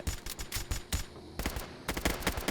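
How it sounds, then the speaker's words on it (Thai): Rapid bursts of gunfire from Roblox Survival Stories, fired in quick clusters separated by short gaps, with faint mechanical scraping between volleys, fairly close and with no talk over them. "ยิงแล้วครับเนี่ยยิงแล้วรีโหลดกระสุนอีกแล้วครับผม"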